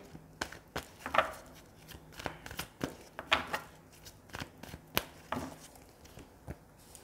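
Tarot cards being shuffled and handled for a reading, a run of close, crisp riffles and soft flicks and taps in irregular bursts, with no speech.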